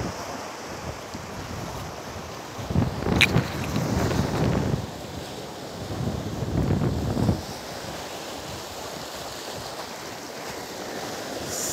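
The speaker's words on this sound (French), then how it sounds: "Ce bruit des vagues, le clapotis." Sea waves wash and lap along an Algerian beach on a warm January day, rising in two broad surges and falling back between them, with steady wind rumble throughout and no voices.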